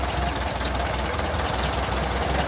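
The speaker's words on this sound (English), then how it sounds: "So there's the engine." A rebuilt engine with new pistons and rings idles steadily, close up, its dense rumble and knocking pulse continuous throughout with no talking.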